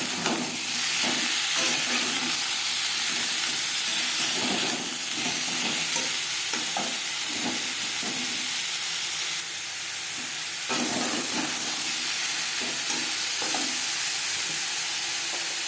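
Mango pieces frying in mustard oil for a mango chutney: a loud, steady sizzle and hiss fills the whole stretch, broken by soft stirring scrapes in the pan.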